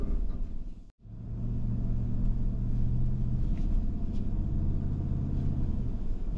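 A Ford F-150 pickup truck engine rumbles steadily as it drives through mud, a low, even drone after a brief near-silent dip at the start, with no talking.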